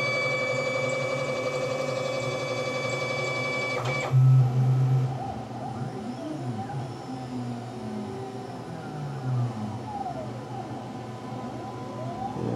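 A CNC mill running an engraving program for a drag engraver with the spindle off: a steady tonal machine whine that cuts out after about four seconds, leaving quieter stepper-motor hums and gliding tones as the axes move.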